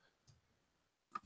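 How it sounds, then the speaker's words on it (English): Two quiet computer mouse clicks, a soft one and then a sharper one about a second later, against near silence. "while you heard all the mouse clicks"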